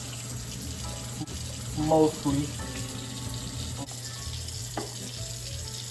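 Cold water running steadily from a kitchen faucet into the sink while spaghetti noodles are drained, a continuous close rush with a brief spoken word and a short clatter partway through.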